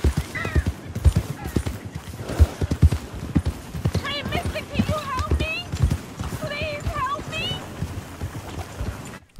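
Horse hooves clip-clop steadily as a wagon rolls along in the video game Red Dead Redemption 2, a continuous trotting rhythm under game sound, with a horse whinny and people talking over it.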